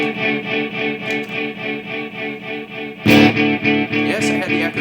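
An electric guitar runs through an Ibanez Echo Shifter analog delay pedal, each note trailed by pulsing, evenly spaced repeats that wash together, with a louder new strum partway through feeding more echoes.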